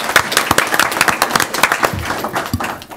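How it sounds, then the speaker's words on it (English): A small group claps for third graders at a work session, sharp individual claps in an uneven burst that thins out toward the end. "Let's give them another round of applause."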